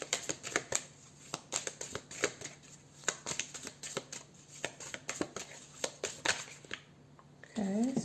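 Tarot cards are shuffled repeatedly up close, quick crisp riffles and slaps in an uneven rhythm, ending with a brief voice.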